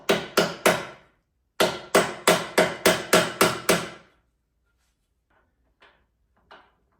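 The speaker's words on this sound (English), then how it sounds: "we're going to have to hammer these into place" Sharp hammer strikes driving nut inserts into a TRD Pro roof rack: three quick blows, a pause, then a steady run of eight, fading to silence with a couple of faint taps.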